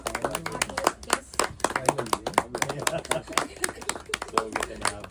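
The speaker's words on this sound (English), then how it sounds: "Let us have a round of applause." Audience applause at a talk on environmental stewardship, a sustained patter of many hands clapping from a moderate-sized crowd, fairly close and steady throughout.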